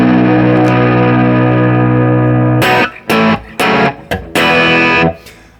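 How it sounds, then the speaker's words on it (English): High-gain electric guitar through a Kemper Marshall Rock Minus amp profile: a loud, sustained distorted chord rings out, then several short, choppy palm-muted stabs follow with brief gaps between them. "So number 2 is again a pretty high gain sound. It's called Marshall Rock Minus,"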